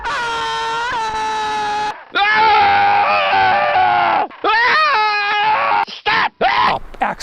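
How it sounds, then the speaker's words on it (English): A cartoon character screaming in a Soviet cartoon, long loud wailing screams with bending pitch, cut off repeatedly by short gaps and sputtering near the end. "I especially love this guy that screams like a Half-Life NPC."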